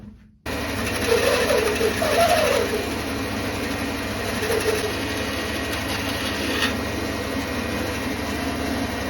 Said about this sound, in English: That sounds like a bad noise. Well, I broke the bandsaw.